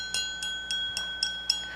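Simulated ultrasound transducer pulses for shallow imaging: six short bright beeps in a quick, even rhythm, clear and isolated against a faint steady hum.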